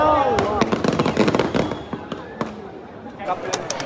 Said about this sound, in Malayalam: ചിലർ അല്ലറ ചില്ലറ പടക്കം അവർ പൊട്ടിക്കുന്നുണ്ടായിരുന്നു